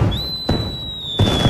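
Cartoon fireworks going off in an animated comedy scene: a steady high whistle streaks over a broad crackling rumble, with two louder bursts breaking through, close and loud.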